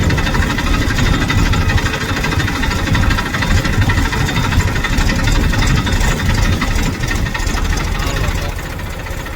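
A tractor engine runs steadily and loudly throughout, a dense low rumble with knocking vibration and some voices mixed in.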